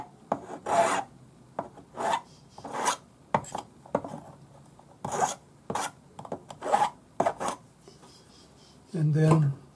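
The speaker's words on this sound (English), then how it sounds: "My Swiss number 2 cut flat hand file. This is just to take the sharp points off." Short rasping strokes of a Swiss number 2 cut flat hand file taking sharp points off a metal cigar band ring, irregular and close, with brief pauses between passes.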